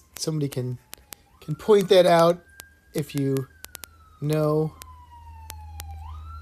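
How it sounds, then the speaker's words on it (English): A police siren wails in the distance, its tone sliding up and down beneath a person speaking close by. "Sorry about the siren."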